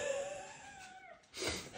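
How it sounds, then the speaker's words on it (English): A cat shut inside behind a bookcase door lets out a drawn-out, wavering meow, muffled and moderately close, followed by a brief louder rustle. "guess I had a cat locked in there"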